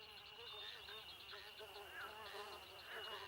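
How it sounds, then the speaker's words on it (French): A thin, high mosquito whine hums steadily throughout, a faint buzzing that wavers slightly in pitch, with soft voices talking underneath, in a cartoon. "Ah, un moustique."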